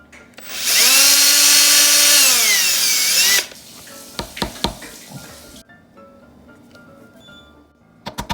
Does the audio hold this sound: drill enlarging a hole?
yes